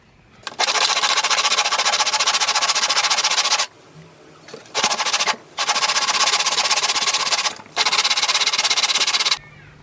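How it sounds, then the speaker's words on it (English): Wire stripper being sanded with 100-grit sandpaper on a power sander, loud steady whirring bursts with short pauses between runs, close up. "we put the sandpaper, start with one that isn't too thick, number 100, and we place it in the widest part"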